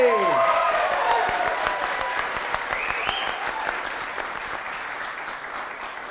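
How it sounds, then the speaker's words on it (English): An audience bursts into loud applause at a comedy show, dense clapping and a few cheers that stay strong, then slowly thin out over several seconds. "let's have a huge round of applause"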